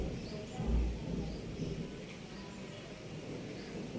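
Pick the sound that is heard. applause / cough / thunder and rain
thunder and rain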